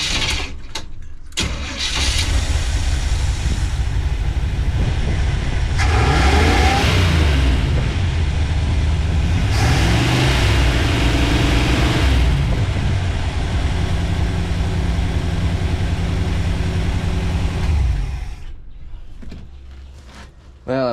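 A 1986 Chevy G20 van's small-block 350 with newly replaced carb and exhaust gaskets cranks, starts and revs loudly up and down close by, then idles before cutting off. Someone speaks briefly.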